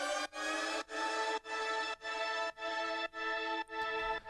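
A Juno-style super pad chord from FL Studio Flex, automated to rise in pitch, repeats in seven rhythmic stabs with brief gaps, loud and bright with no talking.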